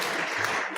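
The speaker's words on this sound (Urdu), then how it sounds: "تالیاں ذرا بجائیں جی سارے" Audience applause at a Horizon College student award ceremony, a dense, steady patter of many hands clapping at close range for under a second, with no talk.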